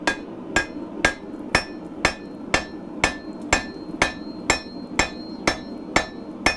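Hammer blows forging and drawing out the tapered handle of a katana, a steady rhythm of about thirteen sharp ringing strikes on hot steel, close and loud with no talk.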